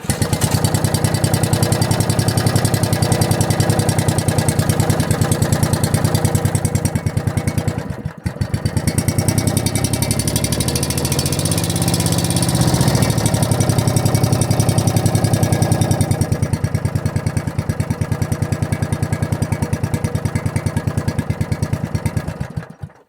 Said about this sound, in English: Second pull and it started.